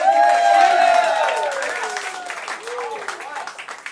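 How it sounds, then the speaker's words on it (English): Applause and cheering from an audience, loud at first and tapering off, with whoops and voices rising over the clapping. "can we get a round of applause?"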